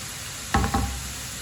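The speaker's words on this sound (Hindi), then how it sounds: "इसे हल्का सा ब्राउन करना है दोनों चीज़ों को, लहसुन और प्याज को।" A soft, steady sizzle of onion and garlic frying in oil, with a brief burst of stirring scrapes in the pan partway through.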